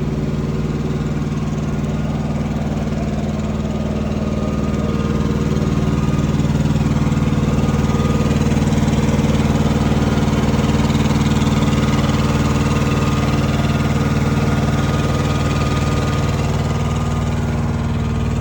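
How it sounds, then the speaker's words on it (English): A Cummins diesel engine in an owner-operator semi truck idles steadily and loudly up close, a continuous low rumble with no talking. "Got the Cummins engine in here."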